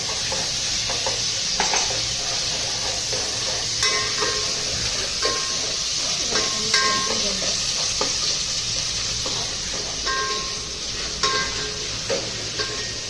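Onions sizzle steadily in a hot pan for a Malvani chicken curry as ginger-garlic paste goes in, with a constant frying hiss broken by scattered metallic clinks and scrapes of a spoon stirring against the pan.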